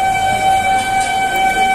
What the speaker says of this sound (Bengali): আরেকটা ট্রেন ঢুকেছে